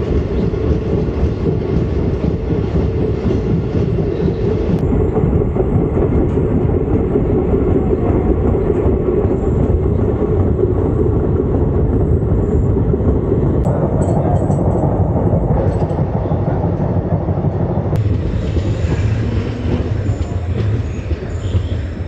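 Passenger train running on rails, a steady loud rumble with rattling carriage noise and faint clickety-clack throughout, heard from on board with no talk.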